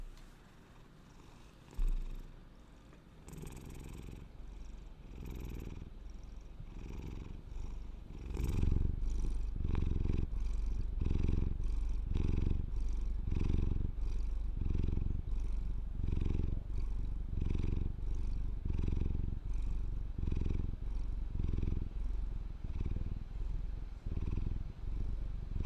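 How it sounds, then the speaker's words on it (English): A cat purrs steadily up close, a low rhythmic rumble pulsing with each breath, soft at first then growing fuller and continuous. "Are you gonna purr into the microphone?"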